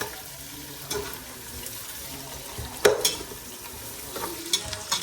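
Onions for mutton biryani fry in a pan, a soft continuous sizzle broken by a few scattered stirring clinks and scrapes close by, with no talk.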